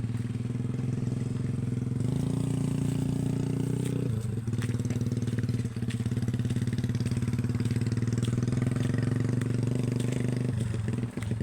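A motorcycle engine runs steadily downhill from the listener, a constant low mechanical drone with clattering texture and slight rises in revs, continuing without a break and with no voices over it.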